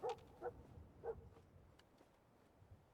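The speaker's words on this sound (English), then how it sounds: "I don't know what he's barking at." Dogmeat, the canine companion in the Fallout 4 video game, lets out three faint, short barks early on over a quiet, murky game background.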